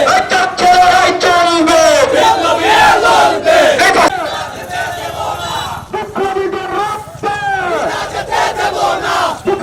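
A street protest crowd in Brahmanbaria chants slogans loudly in rhythmic call-and-response bursts, many voices shouting together close by, with a short lull before the chanting resumes.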